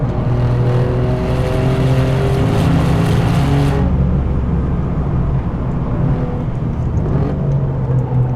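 An Alfa Romeo Giulia Quadrifoglio on a race track, its engine heard from inside the car, revving hard with a loud, continuous roar and harmonics climbing through the gears, then easing to a lower drone as the tone drops off.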